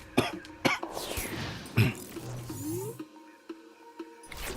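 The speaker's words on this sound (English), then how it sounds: "I still have a little bit of a lingering cough." A person with a lingering cough from a recent illness coughs and clears the throat in several sharp, close bursts, with quieter rustling between them.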